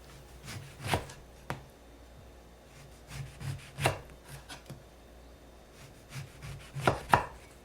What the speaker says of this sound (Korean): 단촛물이 식을 동안 오렌지를 손질하겠습니다.